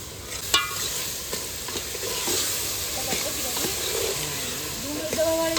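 Onion and garlic fry in a pan with a continuous sizzle and scraping stirs, while a voice talks faintly underneath.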